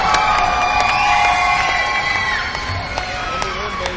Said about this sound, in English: Big round of applause for your champion, Warlock.